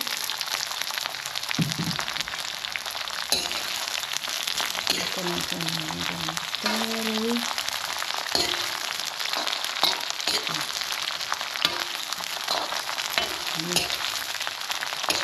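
Ginger and garlic frying in a pan while being stirred, a dense steady sizzle throughout with occasional spatula knocks and scrapes, a voice speaking briefly in the background.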